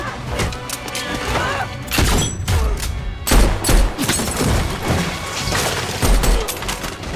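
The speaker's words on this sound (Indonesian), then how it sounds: "tiba-tiba muncul seseorang yang menembak Noel." Gunfire in an action film: repeated sharp shots and bursts with heavy low booms and thuds scattered over several seconds, loud and close, amid a busy cinematic soundtrack.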